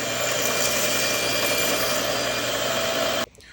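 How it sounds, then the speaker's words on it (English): A table saw rips a pallet board against the fence, cutting it into thin strips with a steady, loud, dense whine that runs unbroken for about three seconds before the blade suddenly drops off and fades. "using an actual straight edge against the fence with the board against that to get you a straight edge on the table saw"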